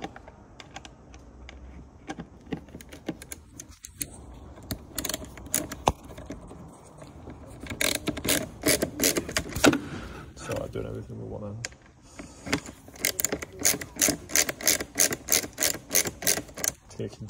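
Bolts are tightened while servicing a Skoda Octavia, a ratchet clicking in fast repeated bursts with pauses between runs. Nearby clatter of tools is heard, and someone talks in places.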